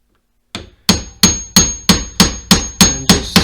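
An inner cartridge seal is tapped into a Showa motorcycle fork with a 3/8 socket, giving eight loud, sharp metallic hammer strikes at a steady, even rhythm, close up with no talk.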